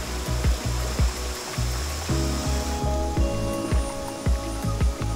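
Jungle waterfall in Phatthalung, Thailand, a constant broad rushing of falling water under a series of repeated low thumps and knocks, steady and fairly close.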